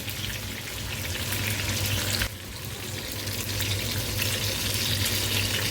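Eggplant and green chilies frying in a pan on a gas stove, a steady, close crackling sizzle running throughout with a brief dip partway, no voices.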